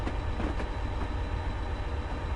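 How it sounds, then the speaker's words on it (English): A heavy goods train in Train Simulator on the Settle to Carlisle line rumbles past with a steady low roar and faint rhythmic clatter, continuous and fairly close throughout. "Just about to pass another goods train, I think."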